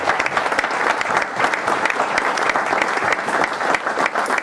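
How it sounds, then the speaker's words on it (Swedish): An audience at a community awards gala for local associations bursts into applause as a scout leader is called up. The clapping is dense and continuous from many hands and holds at a steady, full level throughout. "Applåd för Fredrik"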